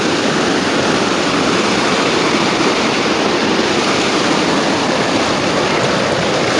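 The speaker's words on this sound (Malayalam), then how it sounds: "ഇവിടെ ഒരു വെള്ളച്ചാട്ടം നോക്കി" A waterfall in Ladakh gives a loud, steady, broadband roar of rushing water that fills the whole stretch close to the microphone, unbroken and with no voices.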